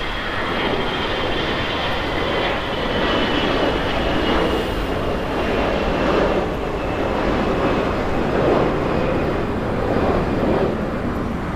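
A KLM airliner at LAX, a broad, steady roar of engine noise that swells gently and holds for several seconds, fairly loud and distant-sounding, with no voices.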